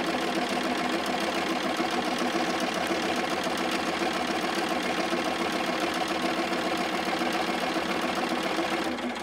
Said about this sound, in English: And I'm just going to keep right on sewing right straight down.